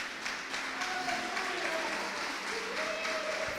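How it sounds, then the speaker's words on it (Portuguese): A congregation at a church men's conference applauds continuously, a dense steady wash of clapping from a large crowd, with faint voices underneath. "Você pode aplaudir ao Senhor pela vida do Márcio Jaime."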